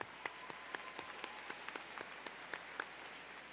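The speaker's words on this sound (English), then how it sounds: "Another round of applause for all the principals." An audience at a high school graduation ceremony applauding, a steady wash of many hands clapping heard from a distance, with a few sharper individual claps standing out.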